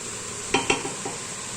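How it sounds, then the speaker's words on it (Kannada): Boiled peas are stirred into vegetable pulao, giving two quick close clacks of a spoon against the pot and a softer scrape after, over a faint background sizzle. "ಹಾಗೆ ಬೇಯಿಸಿ ಎತ್ತಿಟ್ಕೊಂಡಿರೋಂಥ ಬಟಾಣಿನ ಮಿಕ್ಸ್ ಮಾಡ್ಕೊತಾ ಇದ್ದೀನಿ ಲಾಸ್ಟಲ್ಲಿ"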